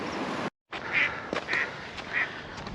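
Calls from a mother goose with goslings on a canal, three short honking quacks spaced roughly half a second apart over a steady outdoor background, moderately near, with a brief dropout early and no talking.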